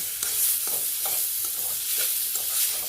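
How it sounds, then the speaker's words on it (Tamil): Grated coconut being sautéed in a pan for tomato bath, with a soft sizzle under rhythmic stirring scrapes that repeat roughly every half second, with no speech. "இதையும் போட்டு நல்லா இதில் போட்டு வதக்கணும்"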